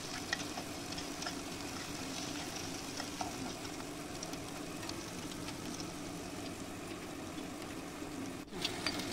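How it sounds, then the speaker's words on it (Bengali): Fried egg with chopped onion and tomato being stirred in a pan, a steady close sizzle with faint scraping and clinks running throughout at low volume, without speech. "ঢাকনিটি খুলে এবার ডিমটা পেঁয়াজ আর টমেটো কুচির সাথে ভালো করে মিশিয়ে নেবেন"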